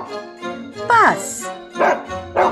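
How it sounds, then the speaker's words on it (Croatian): A domestic dog barks in a few short, separate bursts spaced about half a second apart, loud and close, with rising and falling tones between them. "Pas."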